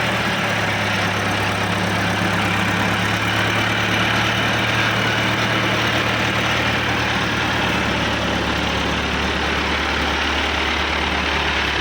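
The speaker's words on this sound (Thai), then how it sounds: "แต่ว่า เครื่องอะไรสตาร์ทปกตินะครับ" A farm tractor's engine running after starting, a loud, steady low diesel-like rumble that idles evenly throughout at close range.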